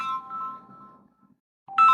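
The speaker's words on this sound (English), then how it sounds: "Who is these people calling my phone?" Phone ringtone, a clean electronic melody of a few tones that stops after a second, then starts again near the end, close and clear in a quiet room.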